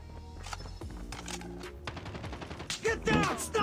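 Gunfire in the mobile game Call of Duty: Mobile, rapid bursts of close automatic shots with sharp impacts, mixed with game effects and voices talking throughout.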